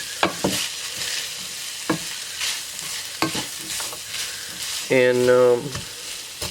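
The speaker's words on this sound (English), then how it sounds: "I want to get the mushrooms and the onions sauteed a little bit." Mushrooms and onions sauté in a pan for hamburger gravy, a steady sizzle punctuated by sharp scrapes and clanks of a utensil stirring, with a brief louder clatter near the end.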